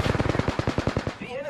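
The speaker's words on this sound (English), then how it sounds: "The enemies are shooting at me." Enemy automatic gunfire in a video game: a fast, close machine-gun burst of about a dozen evenly spaced shots, then a short electronic tone as it stops.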